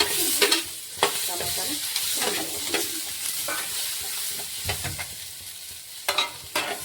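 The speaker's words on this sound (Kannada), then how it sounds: "ಟೊಮೊಟೊ ಕೂಡ ಇವಾಗ ಫ್ರೈ ಮಾಡ್ಕೊತೀನಿ." Tomatoes frying in a pan alongside onions for a chicken green gravy, a steady close sizzle broken by repeated scraping stirs of the spoon, with no talking.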